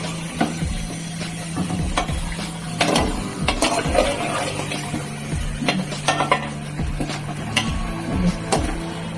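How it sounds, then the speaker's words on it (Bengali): Hot water splashes into a sizzling pot of Bengali country chicken curry, with steady frying hiss, metallic pot clatter and stirring knocks in a near, busy kitchen. "তেলে ছেড়ে গেছে, গরম জলটা দিয়ে দিচ্ছি।"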